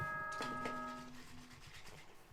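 School announcement chime from the Danganronpa video game, a short two-note bell ding ringing out cleanly and then fading, quiet and alone.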